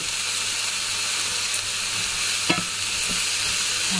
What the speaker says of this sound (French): j'ai ici mon petit bouillon qui est en train de chauffer